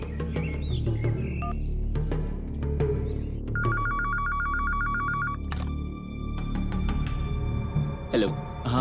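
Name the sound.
home landline telephone ringing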